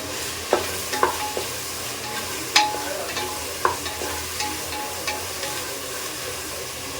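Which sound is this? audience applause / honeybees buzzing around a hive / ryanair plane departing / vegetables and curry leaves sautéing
vegetables and curry leaves sautéing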